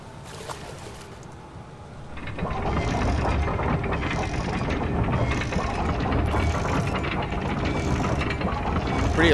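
A large, elaborate crank mechanism turns in Silent Hill: Downpour, giving a steady, loud grinding ratchet of clicking gears and pawls that starts after a brief pause and holds at full volume to the end.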